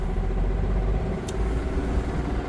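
A bus engine holds a steady fast idle, a loud continuous low rumble close by, with one brief faint high tick partway through and no speech.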